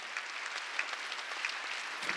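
A church congregation applauds during a Korean New Year's Eve worship service, with many hands clapping in a dense, steady patter at moderate volume and no voices.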